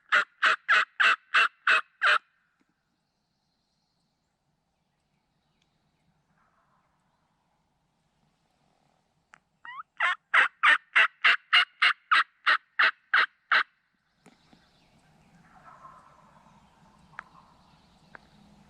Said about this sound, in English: 2 more birds that were fairly close that were gobbling